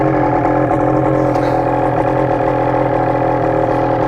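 Ski-Doo 850 turbo snowmobile with a straight pipe idling on a stand, a loud, steady, rough low drone with a constant throb that holds evenly for the whole stretch, close up and alone with no talk.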